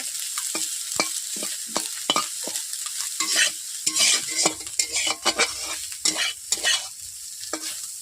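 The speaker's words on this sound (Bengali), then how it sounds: "বন্ধুরা দেখতেই পাচ্ছেন কতগুলো গুগলি ছিল গুগলিগুলো ভেজে নিতে একটু হয়ে গেল" Freshwater snails sizzle and crackle as they fry in a hot pan while being stirred, with repeated scraping and clinks of a utensil against metal, close and busy.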